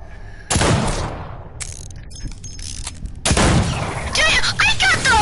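Rapid gunfire bursts from shooting zombies in a video game, loud, dense volleys that stop and restart with a quieter stretch between them. An excited voice talks over parts of the shooting.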